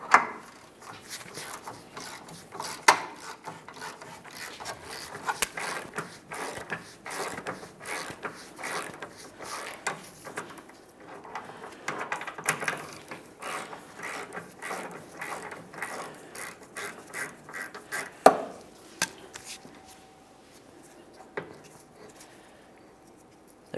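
Ratchet turning out an 18mm bolt on the rear control arm of a 2003-2011 Mercury Grand Marquis, with steady rapid clicking and rasping up close, a few louder knocks, easing off near the end.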